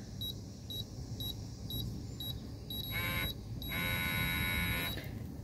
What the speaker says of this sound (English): Once you go over, it buzzes, vibrates, and gives you that red light there.